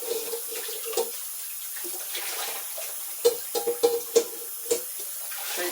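Tap water running steadily into a kitchen sink while a saucepan is rinsed, a continuous close hiss broken by a few clunks and splashes as the pan is moved.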